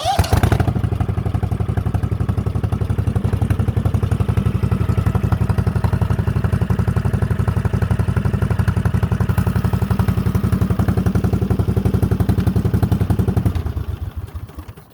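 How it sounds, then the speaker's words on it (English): A Cub Cadet 2185 garden tractor engine, running without an exhaust, sputters to life almost immediately and runs with a loud, steady chugging idle close by, then cuts off at the end. "Starts right up."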